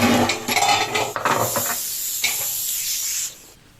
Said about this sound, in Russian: Берем головку на 24 и откручиваем. При помощи гайковерта